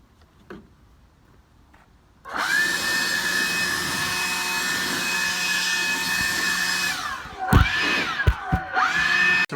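A power saw cuts through a wooden interior door being trimmed to fit its frame, running steadily and loud for several seconds before winding down with a few sharp knocks and a restart.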